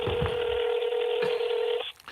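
A telephone dials out to call back a dropped caller during a live stream, giving a steady run of loud, close dialing tones that stops abruptly near the end.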